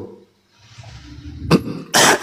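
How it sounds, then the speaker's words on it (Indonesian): Two close coughs from a person, a short one followed by a longer, louder burst, after a stretch of quiet room noise. "Batuk kan gua?"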